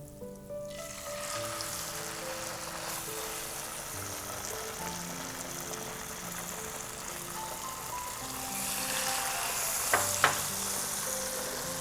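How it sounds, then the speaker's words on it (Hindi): Chicken pieces frying skin side down in melted, sizzling butter in a pan over high flame, a steady close hiss and crackle that grows slightly louder near the end. "जैसे ही बटर सिजल होके मेल्ट हो जाता है, हम इसके अंदर चिकन की जो है वो पीसेस ट्रांसफ़र कर देंगे।"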